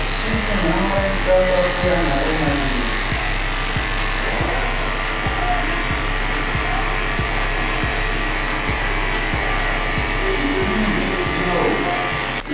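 Electric hair clippers buzzing steadily while cutting a mid bald fade near the occipital bone, a close, continuous motor drone with a regular pulsing hum, running through the whole stretch.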